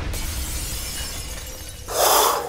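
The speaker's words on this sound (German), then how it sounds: "das Rauschen zurück und dann das Splittern von Glas" Old drinking glasses smashed with a hammer: a sudden bright shattering burst near the end, loud and close, after a stretch of low rumbling background noise.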